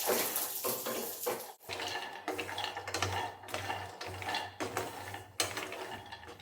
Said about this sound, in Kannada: ಫಸ್ಟು ಬಾದಾಮಿ ಮತ್ತು ಗೋಡಂಬಿಗಳನ್ನು ಹಾಕೊಂಡು ಕೊಡ್ತೀನಿ